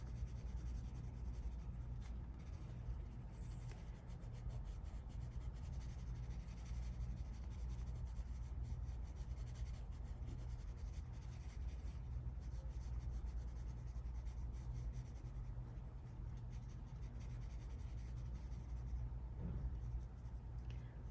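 A graphite pencil shades on paper with steady, soft scratching that keeps on and fades in pressure at times. It is faint and close, with a low background hum and no voices.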